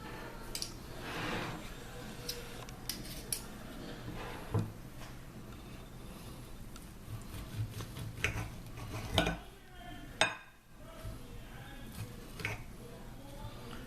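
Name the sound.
knife cutting into a sous vide ribeye steak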